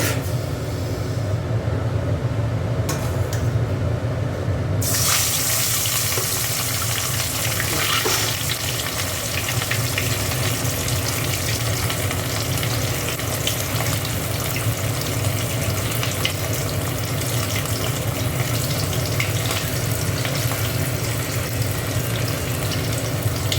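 Pieces of katla fish fry in white oil in a pan, giving a loud, steady, dense sizzle that runs unbroken throughout, with no one talking.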